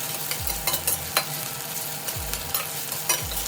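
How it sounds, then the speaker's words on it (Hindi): Onion with crushed ginger and garlic stirred in a hot pan: a continuous soft sizzle under repeated scraping sweeps of a spoon across the pan, close and moderately loud, with no voices. "प्याज को थोड़ी देर चलाने के बाद डाल दी कूटा हुआ अदरक लहसुन, और अब इसको भी थोड़ी देर चलाती हूँ।"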